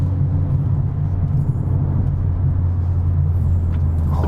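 A 2020 Mercedes CLA45 AMG heads into a corner, its engine a steady low rumble and drone heard from inside the cabin, with no talking.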